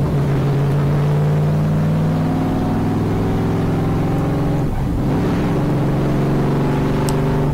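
A NASCAR stock car engine is held at a loud, sustained drone around 3,000 RPM from inside the cockpit, with a brief dip and recovery midway as the pitch shifts, running continuously with no voices.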